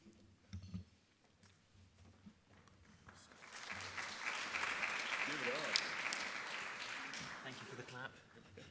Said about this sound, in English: Thank you for the clap